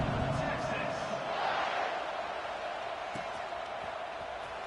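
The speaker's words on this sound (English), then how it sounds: "this crowd is buzzing after that last score" A college football stadium crowd buzzes after a Texas touchdown, a steady, dense roar of many voices held at an even level for several seconds.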